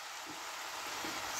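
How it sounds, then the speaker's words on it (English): Spicy chicken stir fry sizzling steadily in a pan with lemon added, a soft continuous hiss with faint stirring scrapes, fairly quiet and with no talking. "Can we give it a stir, please?"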